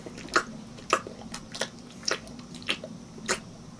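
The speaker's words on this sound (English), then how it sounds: "Quit licking yourself." A pet licks itself up close, giving a string of wet, smacking laps spaced about half a second apart, fairly quiet against a still room.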